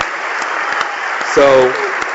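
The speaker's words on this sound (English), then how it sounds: "So give a round of applause to the sisters." Audience applause at the Bioneers by the Bay event, a short steady patter of clapping with a voice briefly cutting in partway through.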